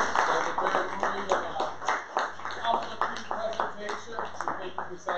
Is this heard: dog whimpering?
no